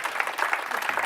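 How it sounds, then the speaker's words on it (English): Brief burst of audience clapping at a real estate presentation, a short, moderately dense patter of hands with faint voices mixed in. "So now you can clap."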